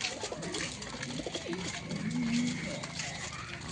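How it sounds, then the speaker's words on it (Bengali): Giribaz pigeons coo in a low, murmuring flock sound, close and continuous, amid background noise and some talk. "ভালো ভালো গিরাবাজ পায়রা আছে এখানে।"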